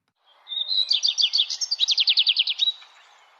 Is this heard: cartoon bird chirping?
yes